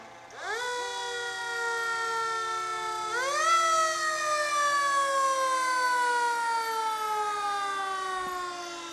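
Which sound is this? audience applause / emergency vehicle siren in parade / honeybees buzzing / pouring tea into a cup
emergency vehicle siren in parade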